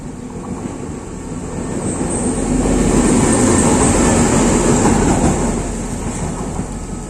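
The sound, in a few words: railway wagon passing at the Malaysia–Thailand border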